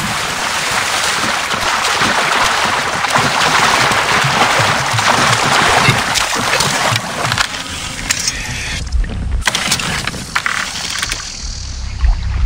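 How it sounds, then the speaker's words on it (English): Dense, steady roar of a crowd gathered outside a fort in Assassin's Creed Origins, a broad wash of many voices with scattered clatter that thins and breaks up toward the end. "Sounds like a crowd protesting. People are gathering outside the fort."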